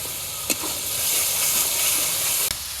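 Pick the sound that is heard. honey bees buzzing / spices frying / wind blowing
spices frying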